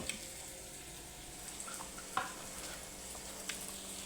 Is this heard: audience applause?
no